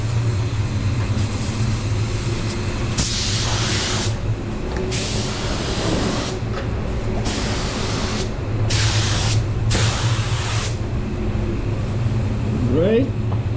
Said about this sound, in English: I'm spraying at 30 psi, full trigger, but moving quite fast, obviously